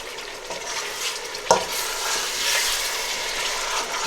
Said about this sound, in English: So I'll fry this lamb meat with all these spices.